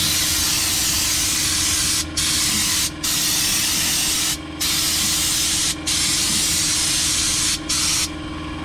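An air compressor-driven spray gun blasts Fluid Film undercoating beneath a Jeep, a loud continuous hiss with a steady low hum, broken by several brief pauses as the trigger is released, up close with no talking.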